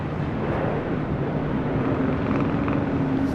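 A United Airlines Boeing 777-200 jet at LAX gives a steady, loud broadband roar with a low hum beneath it, holding constant for a few seconds without any voices.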